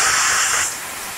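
Water poured into a pan of frying okra bursts into a loud, steady steam hiss that fades partway through, with no talking.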